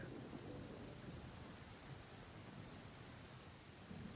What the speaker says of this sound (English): Oh my god, why is it raining?